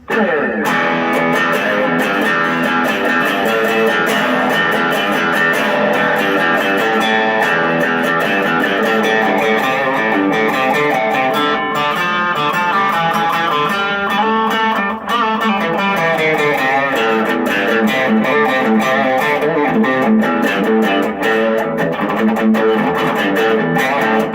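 A custom Epiphone LP100 electric guitar with a coil-tapped Seymour Duncan bridge humbucker plays continuously with a bright, slightly driven tone, chords and notes ringing out loud and unbroken, no voices.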